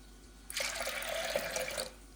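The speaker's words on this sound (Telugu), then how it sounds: "పప్పులోకి సరిపడా వాటర్ వేసుకుందాం మనము పప్పు ఉడికడానికి" Water pours briefly into a pot of lentils (dal) for boiling, a close splashing gush lasting under two seconds before stopping.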